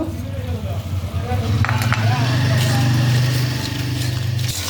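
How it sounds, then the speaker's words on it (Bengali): Masala spice paste with chili powder, coriander and salt sizzling in oil in a pan, a steady frying hiss with stirring scrapes while someone talks over it. "ভালোভাবে মশলাটা কষিয়ে নেব এভাবে সুন্দর করে"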